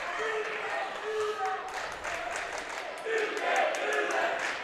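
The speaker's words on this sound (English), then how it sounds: "Folks down in the cheering section telling her she can't do that" A student cheering section at a girls' high school basketball game shouts and chants at a player, a loud, steady crowd roar in an indoor gym with a voice talking over it.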